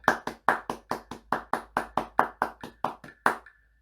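Sharp hand claps in a steady rhythm, about fifteen crisp strikes evenly spaced and fairly close, with no talking.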